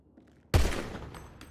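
After a brief quiet pause, one powerful gunshot booms close by and trails off in a reverberant rumble at an outdoor firing range.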